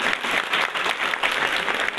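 Audience clapping at a youth association gathering, a steady dense wash of many hands with slight pulsing swells, heard on its own without talk.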